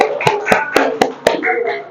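A small group claps in a quick, evenly spaced rhythm of about six sharp hand claps, close and loud, with some voices murmuring underneath.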